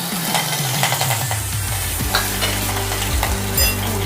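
Green chilies hit hot oil for a dhokla tempering and sizzle loudly and steadily, with a few stirring scrapes and clinks near the pan and no talking.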